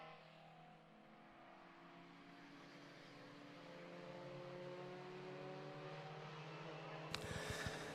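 Race cars at Donington Park run up toward McLean's, a distant, faint engine drone that swells and shifts pitch as they approach, ending in a brief burst of broadband noise.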